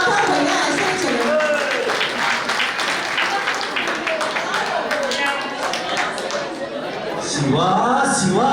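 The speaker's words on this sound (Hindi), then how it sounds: "इनके एक्सप्रेशन के लिए एक और जोरदार तालियां" Applause and cheering from residents watching an amateur play about Shivaji Maharaj's escape from Agra; lively clapping mixed with crowd chatter, with a voice rising over it near the end.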